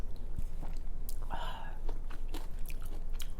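Close, quiet chewing and slurping while eating Korean crispy pork ribs kimchi stew, with soft bites and wet mouth sounds in an intimate eating setting and no talk.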